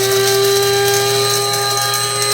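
A Kaffe electric blade coffee grinder runs steadily, a loud, close motor whine with a strong tonal hum and a buzzing rattle of beans, continuous with no pauses and no talking.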